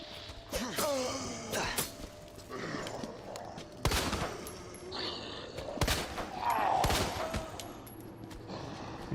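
Gunfire in the Resident Evil 2 (2019) remake: a few sharp, loud shots, separated by pauses, with faint footsteps and breathy game sounds between them.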